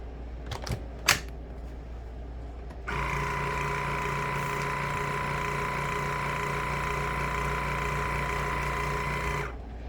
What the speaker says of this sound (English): if you notice that it's not really sucking the air out very well, you can go ahead and click stop